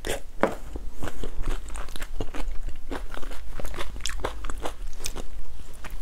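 A small peach bitten and chewed up close during a mukbang eating session: crisp, crunchy bites followed by wet chewing and mouth sounds, steady and close, with no talking.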